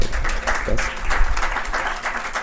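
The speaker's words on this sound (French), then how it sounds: "Merci d'applaudir quand même pour les sponsors." Audience at a Bitcoin conference in Dakar applauding for event sponsors, a steady dense wash of clapping throughout, moderately loud and fairly close, with no clear speech over it.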